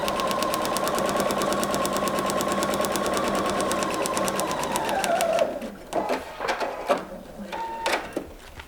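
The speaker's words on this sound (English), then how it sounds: "Fold your pattern, sew along the line." Sewing machine stitching fabric along a paper piecing pattern line, a steady close rapid whir for about five seconds before slowing to a stop, followed by a few light clicks and handling sounds.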